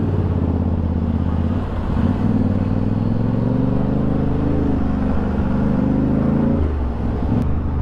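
Car radiator cooling fan kicking on as the engine warms toward 105-106 degrees after coolant ran low in the reservoir, a steady whirring hum layered over the idling engine's drone, loud and close, with no talk.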